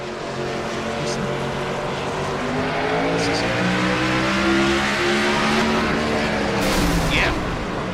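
A stock car engine in the iRacing game roars and drones as the gear shift fails, its pitch sliding and wavering unevenly, loud and close with a brief high squeal near the end.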